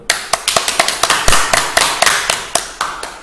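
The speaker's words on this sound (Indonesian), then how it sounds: "Tepuk tangan untuk kita semua dulu." A small classroom group claps hands in a brisk, uneven burst of separate sharp claps, fairly close and without talk.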